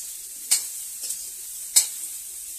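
Cauliflower frying in a pan at home, a quiet steady sizzle broken by three sharp spatter crackles spaced across a couple of seconds, with no voices.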